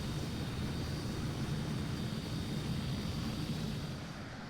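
Panavia Tornado jet in Microsoft Flight Simulator 2020, German version, near Joint Base Andrews: a steady, dense engine roar with broadband rumble and a thin high whine, holding level and easing slightly at the end.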